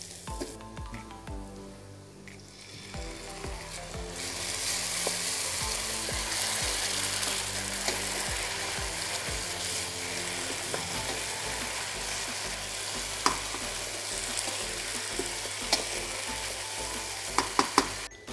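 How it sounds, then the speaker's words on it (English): Mutton kheema masala frying in a pan: a dense, continuous sizzle that builds after a few seconds and stays loud and close, broken by scattered clicks and scrapes of a stirring utensil, with no talk. "So my masala is being cooked."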